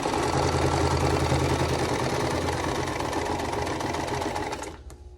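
A sewing machine stitches a quilt block with a rapid, loud, continuous mechanical whirr close to the microphone, then slows and stops near the end.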